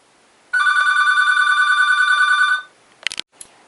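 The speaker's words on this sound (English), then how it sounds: "Oh, phones are ringing." A telephone rings in a steady, trilling electronic burst of about two seconds in a quiet room, followed by a few brief clicks and handling noises.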